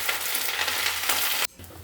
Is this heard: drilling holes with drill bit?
no